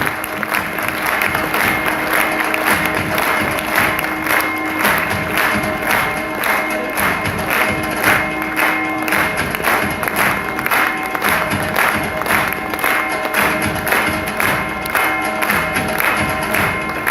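Crowd at an annual college prize distribution programme applauding and cheering, dense continuous clapping with rhythmic bursts and voices mixed in, loud and close throughout.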